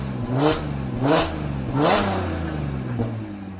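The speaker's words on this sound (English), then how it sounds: "that raspy, high pitch will come down eventually once I properly clamp this exhaust up" A car fitted with JH Motorsports downpipes, high-flow cats and a non-resonated exhaust, not yet properly clamped, revs three times in quick succession nearby, each rev a raspy rising blip over a low idle rumble.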